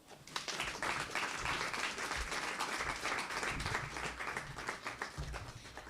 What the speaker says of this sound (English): Another round of applause for Professor Amin Al-Hassan, the Director G